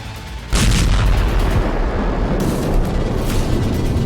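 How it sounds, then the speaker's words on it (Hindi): Explosions from an attack on Caracas, Venezuela, come as two heavy booming blasts that roll on in a continuous loud rumble, with the second blast arriving a couple of seconds after the first. "रात 1 बजे के बाद वेनेजुएला में धमाके शुरू हुए।"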